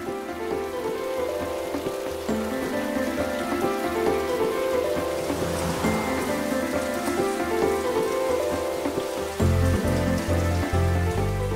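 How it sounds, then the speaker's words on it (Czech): Heavy monsoon rain pours down in a continuous, dense hiss of drops on surfaces, steady and loud throughout, with a tonal background layered underneath and no speech. "Někdy prší celý rok."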